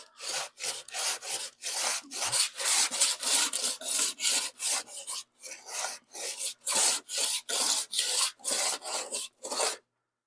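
Sanding a lead-filled seam on a 1976 Monarch car body, a loud, close rasping scrape repeated in steady back-and-forth strokes with short pauses between them, no voices.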